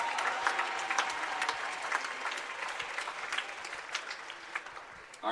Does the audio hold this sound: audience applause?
yes